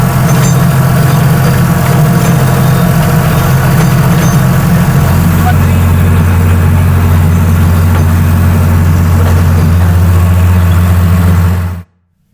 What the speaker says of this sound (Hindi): हमारे सामने चल रहा है फार्म ट्रैक का 47 प्रो मैक्स सीरीज का ट्रैक्टर